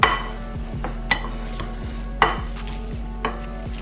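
Homemade paneer being mashed in a bowl, heard as a few soft, evenly spaced thuds and scrapes at moderate volume over a low steady hum, with no talking.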